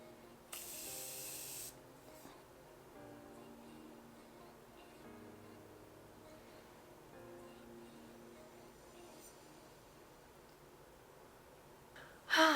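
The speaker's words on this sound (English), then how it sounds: "I'm gonna do the Morphe Continuous Setting Mist and just spray a little bit." A single short hiss of Morphe Continuous Setting Mist from a spray bottle, close by, followed by quiet room tone and another brief sharp burst at the end.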